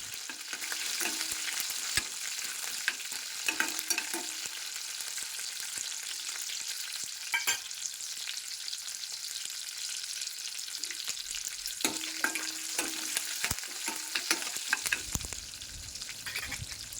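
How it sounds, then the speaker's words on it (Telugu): Chana dal, red chillies, green chillies and curry leaves fry in a tempering, with a soft continuous sizzle broken by sharp crackles, pops and occasional spoon scrapes against the pan, close and without talk. "కరివేపాకు వేసుకొని వేయించుకోవాలి."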